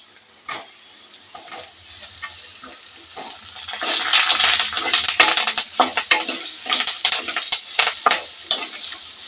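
Tamarind fries in a pan for village-style coconut chutney: a quiet sizzle that swells into loud, close hissing and crackling with bursts of stirring and scraping.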